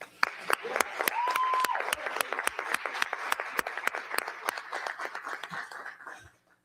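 An audience at a live election-night political event bursts into applause, sharp distinct claps in a steady patter lasting several seconds, with some crowd voices beneath, before cutting off.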